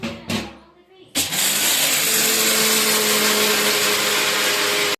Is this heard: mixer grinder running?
yes